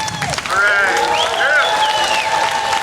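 Crowd applause for a pastor at an outdoor Unite Against Hate rally in Jacksonville, a short burst of clapping with cheering voices rising over it.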